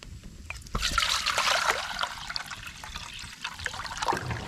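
Water being poured or run into a pot for boiling eggs, a steady close trickling and splashing that swells and continues with small drips and no talk.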